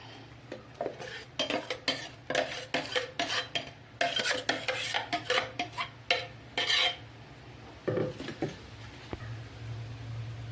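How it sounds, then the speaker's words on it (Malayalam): Ground paste is poured into a metal pot and a spoon scrapes and clatters repeatedly against it as the thick mixture is stirred, a rapid uneven series of close knocks. "അപ്പം നമുക്ക് അരപ്പ് ഇതിലേക്ക് ഒഴിച്ച് കൊടുക്കാം."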